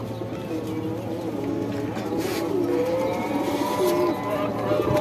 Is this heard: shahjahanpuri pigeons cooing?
yes